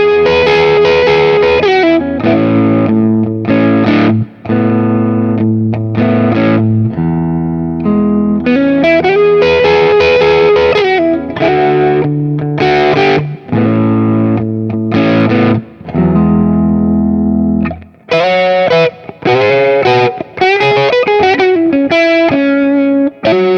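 A Telecaster-style electric guitar with a big humbucker plays chords and melodic runs through effects, loud and sustained with distortion and chorus-like shimmer, pausing briefly between phrases.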